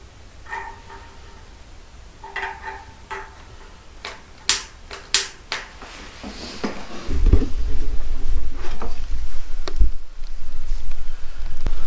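Paper and wood being loaded and lit in a Nippa wood-fired sauna stove with water tank: scattered knocks, clicks and crinkling taps, then a louder steady rushing crackle as the fire catches, close by, with no talk.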